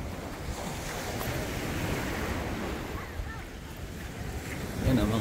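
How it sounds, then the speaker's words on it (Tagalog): Strong sea waves crashing at high tide on a beachfront in San Juan, Batangas, a constant loud rumbling surf mixed with wind buffeting the microphone. "Lakas ng dagat. High tide ngayon."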